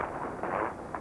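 Artillery shelling in war-torn Grozny, Chechnya, near the presidential palace, heard as a continuous loud rumbling roar with swelling bursts and no clear gaps.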